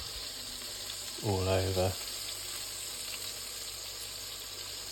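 Sausages fry and brown in a pan with a gentle, continuous sizzle close by, while a voice speaks briefly over it partway through.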